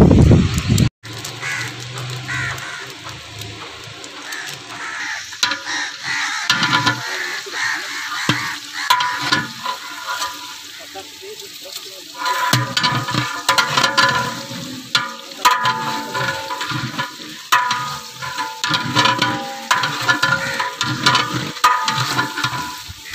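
Masala for chicken korma fries and sizzles in a pot, with intermittent stirring and scraping of a utensil against the metal; a steady hiss runs throughout, with brief clatters and bursts of louder activity partway through.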